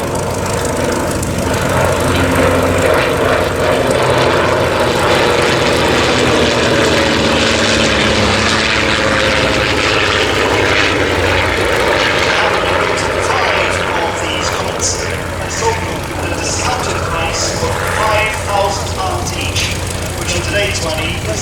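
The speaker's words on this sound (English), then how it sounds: "scarlet comet, the very aircraft in which Charles W.A. Scott and Tom Campbell Black won the 1934 McRoberts International Air Race" A vintage Comet racing aircraft, the scarlet 1934 air race winner, flies past at a vintage air show, its piston engine droning steadily and loud throughout, with crowd noise and talk underneath.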